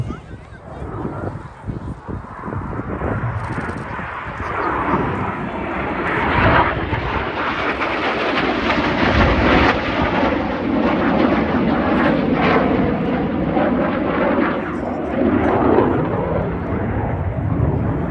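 Red Arrows synchro pair jets in a double-roll crossing pass just over 200 feet above the airfield at an air festival, a loud swelling jet roar that builds and sustains, with a commentator speaking over it.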